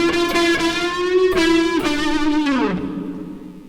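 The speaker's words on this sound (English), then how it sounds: "let me put on the distortion and the chorus." Distorted electric guitar with a chorus effect plays a simple, repeating lead riff, sustained bending notes ringing out steadily before a slide down and fade, played alone with no talking.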